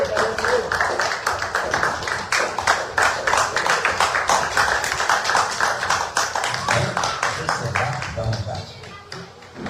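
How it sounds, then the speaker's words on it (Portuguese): Church congregation clapping in praise of Jesus, steady rhythmic hand claps filling the hall, loud and close, with voices talking and calling out beneath the clapping throughout. "Quem puder, depois de sentar as palmas do Senhor Jesus."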